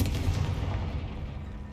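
Confringo fire spell blast in Hogwarts Legacy: a loud, low booming burst hits at once, then rumbles and fades over under two seconds.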